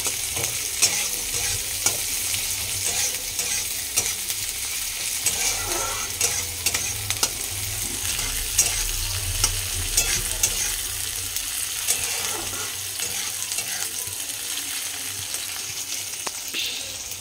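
Food sizzles steadily in a hot pan with repeated scraping and stirring strokes throughout, close and continuous, as part of a mung dal, potato and egg home-cooking session; no talking.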